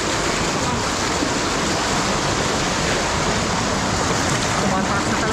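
Rising floodwater near an opened dam rushes as a loud, dense, continuous roar of water with no breaks, close by and filling the scene, with no talking.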